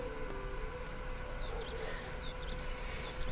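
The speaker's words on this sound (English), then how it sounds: "There's now the sound of birds!" Bird chirps and descending whistled calls repeat over a steady ambient hum in the video game Touch Starved, at moderate distance with no voices.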